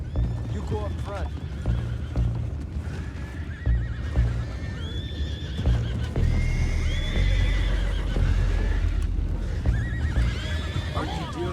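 Horses whinny and neigh repeatedly in Red Dead Redemption 2, with hoof clip-clop and a loud, busy game soundscape underneath, while voices talk over the scene.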